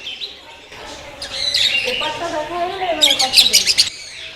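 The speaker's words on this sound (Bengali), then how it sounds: "এখানে অনেকগুলো পাখি রয়েছে অনেক পাখির খাঁচা" Caged birds in a zoo aviary at Baruipur Mini Zoo chirp and tweet in quick bright bursts, rising to a busy cluster of calls near the end, with faint voices in the background.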